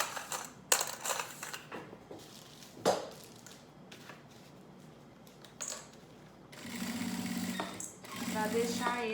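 A sewing machine stitches along a zipper close to its teeth while making a school insulated lunch bag, with short mechanical bursts and a steadier run of stitching near the end.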